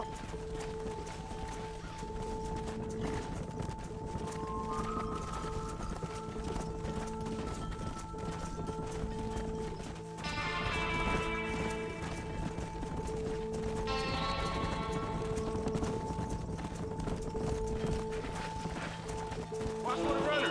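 Horse galloping while herding cattle in Red Dead Redemption, a steady rapid clip-clop of hooves under a musical score, with game characters talking over it throughout.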